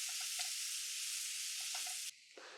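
Chopped banana sautéing in melted butter gives off a steady, close sizzle for about two seconds, with a few soft stirring scrapes mixed in, before the hiss suddenly drops away to a much quieter simmer.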